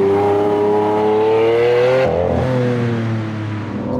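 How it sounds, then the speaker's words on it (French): A Lamborghini Aventador SV engine revs hard under throttle, a loud, close, high-pitched harmonic howl that holds and climbs, cuts briefly at the shift, then settles into a lower steady drone. "Là, je commence à mettre du gaz, là."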